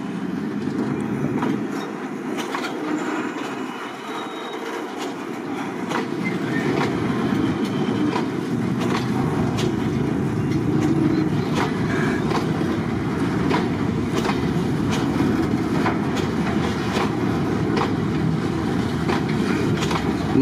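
A freight train rolls through Bang Sue Junction, a loud, steady rumble of wagons with rhythmic clickety-clack of wheels over rail joints, building after a few seconds and continuing close by without any speech.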